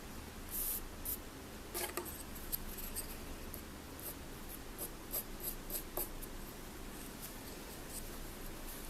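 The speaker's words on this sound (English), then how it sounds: "I'm sketching it so I can erase it and it's not going to show." A pencil sketches on paper in faint, close scratchy strokes, with short bursts of scraping separated by brief pauses in an otherwise quiet room.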